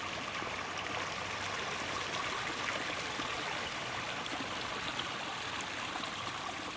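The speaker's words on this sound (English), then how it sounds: "This is the top of the biofalls." Water flows over a pond biofalls waterfall filled with river rock in a steady, even rushing trickle, close and alone with no voices.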